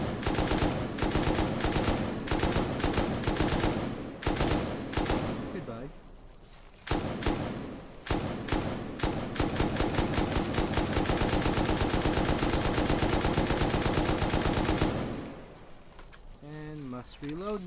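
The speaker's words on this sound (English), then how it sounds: "Now there's probably gonna be shotgun traps." Shotgun traps in Rust fire in rapid, dense volleys, loud and close, with brief gaps between bursts before the shooting stops and a voice is heard speaking near the end.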